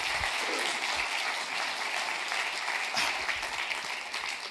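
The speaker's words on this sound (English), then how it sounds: "Please a clap for my panel." Applause from a conference audience for a water and peace panel fills the room, a steady, dense wash of clapping held at even loudness for several seconds with no speech over it.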